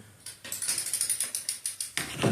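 A wrench ratchets in a quick run of clicks while camshaft bolts are tightened on a GM LS L96 V8 engine, about a dozen close, crisp ticks in steady rhythm and then a brief clunk.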